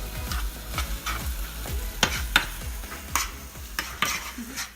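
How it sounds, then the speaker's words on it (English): Onion sautes in a skillet with olive oil, a steady sizzle broken by regular knocks of a utensil stirring and scraping the pan, close and busy with no talking. "Adding the onion to the skillet to saute."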